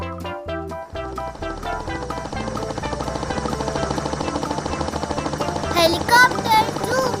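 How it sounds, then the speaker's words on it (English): A toy helicopter plays a bright electronic jingle, then a fast, pulsing mechanical rotor effect under continuing music that grows a little louder toward the end. "Helicopter, zoom, zoom."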